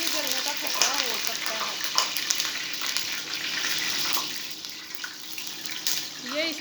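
Water splashed into a hot pan for makhandi halwa sets off a loud, sustained sizzling hiss close by, crackling steadily for several seconds while someone speaks over it.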